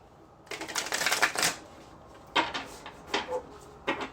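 Tarot cards being shuffled: a long riffling burst followed by several shorter shuffles, close and crisp with no talking.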